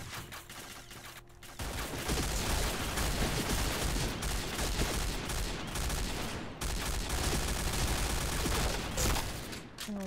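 Rapid, continuous G36C rifle fire rattles in the PointBlank video game, a dense burst of shots starting after a brief quieter lead-in and running loud to the end with small pauses.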